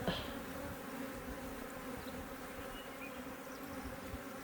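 Agitated honeybees buzz at an opened hive during an inspection, a dense, steady, close drone of many insects with no break throughout.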